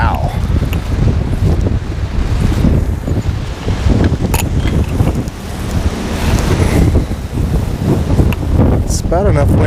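Strong, steady wind roars and buffets across the microphone on a fishing boat out on open water, a continuous loud rush with faint splashing beneath it.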